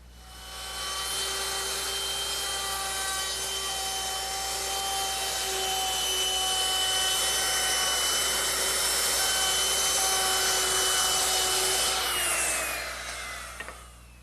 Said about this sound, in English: I'm rounding over the top edges of the seat slats using the same 1/4-inch rounding over bit